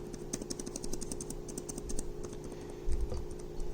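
Soft, quiet typing on the Lenovo Ideapad 5 15ITL05 laptop's non-mechanical keyboard, a rapid run of light key clicks with brief pauses and one heavier tap near the end.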